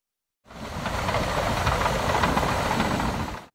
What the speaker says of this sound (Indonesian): Bulldozer atau mesin penggusur adalah jenis peralatan konstruksi bertipe traktor